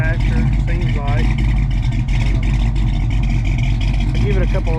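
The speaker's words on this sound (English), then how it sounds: "I'll give it a couple revs, let y'all hear it." A Chevrolet C10 truck with a new exhaust rumbles loud and close, the engine idling with slight rises in pitch, while someone talks over it.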